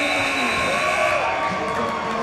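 Scoreboard buzzer at a high school conference basketball game, a sustained steady tone over crowd noise for the whole stretch.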